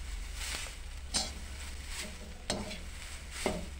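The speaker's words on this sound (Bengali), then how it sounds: "এভাবে নাড়াচাড়া করতে হবে, তাহলে ভালো করে তেলটা মিশবে" Dried jute leaves fry in oil and are stirred in the pan, giving a continuous sizzle broken by four sharp scrapes or taps of the utensil at roughly one-second intervals, with a low steady hum beneath.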